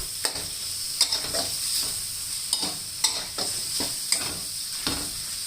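Pork stirred into scrambled egg in a hot pan for Thai-style stir-fried noodles, a steady sizzle broken by repeated sharp scrapes of the spatula every second or so, close and alone.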